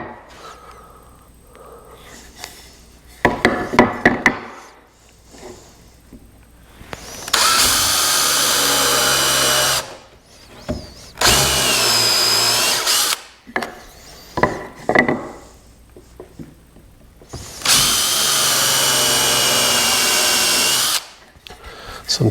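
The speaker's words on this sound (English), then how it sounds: "So let's go ahead and get these countersunk." A power drill countersinks holes in wood for the stretchers of Christmas bow rockers, with three loud sustained whirring bursts of several seconds each, separated by handling clatter and quiet pauses.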